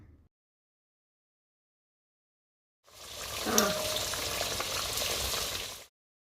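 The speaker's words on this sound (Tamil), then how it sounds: "இப்போ கொஞ்ச நேரம் கொதிக்க விடலாம்." Fish curry with coconut milk bubbles and sizzles in a pan, a close, steady simmering hiss that starts abruptly after silence and runs for a few seconds before cutting off.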